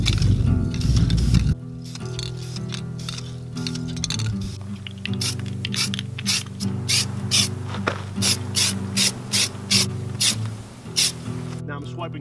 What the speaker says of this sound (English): so I've masked and I've started sanding